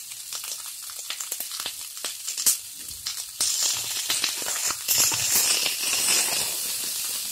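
Cauliflower pieces fry in a pan over lowered heat, giving a steady broadband sizzle with crackling pops that grows louder and denser partway through, with no talking.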